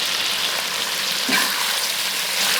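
Duck pieces stir-fried in a wok with ginger, giving a steady close sizzle and hiss with a brief scraping stir near the middle, no voices.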